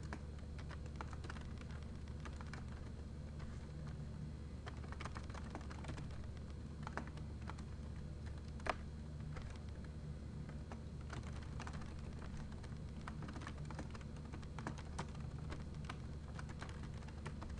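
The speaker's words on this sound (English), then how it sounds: "I'm going to type in the address here." Steady computer keyboard typing as an address is entered, a continuous run of quiet, close key clicks with an occasional slightly louder tap over a low background hum, with no talking.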